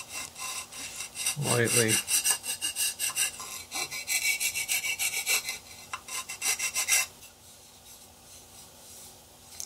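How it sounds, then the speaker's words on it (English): A file rasps along the edges of a plaster model building in short scraping strokes, a quick rhythmic burst of rubbing followed by lighter strokes that stop near the end, close and alone, with one brief spoken word. "Inside faces, you can just take a file,"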